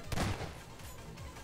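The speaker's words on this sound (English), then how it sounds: "Oh, I heard a gunshot." A single gunshot cracks in a Garry's Mod Prop Hunt match, a sharp burst at the very start that quickly trails off into a dull echoing tail.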